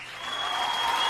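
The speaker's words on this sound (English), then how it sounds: "Give her a round of applause." A short burst of crowd applause, steady clapping that swells slightly over its brief length.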